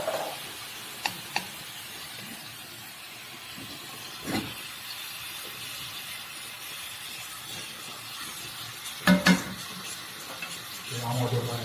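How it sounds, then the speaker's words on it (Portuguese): Refogado frying in a pan, a quiet steady sizzle and hiss with a few soft knocks and stirring clatters, a louder scrape near the end. "Chiado na panela."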